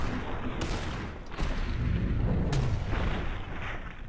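Gunfire in Fallout 4 while shooting the arm off a Behemoth, a few sharp loud shots and booms over a heavy rumbling combat backdrop.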